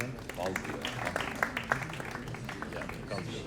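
An audience at a wedding ceremony claps in a scattered, moderately loud burst, the applause running under a speaking voice throughout.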